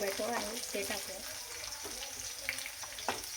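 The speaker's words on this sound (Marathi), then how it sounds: "तेल चांगलं गरम झालं ना की लसूण लवकर तळला जातो" Garlic fries in hot oil in a thick kadhai, giving a steady close sizzle with occasional crackles and soft stirring scrapes, and no talk over it.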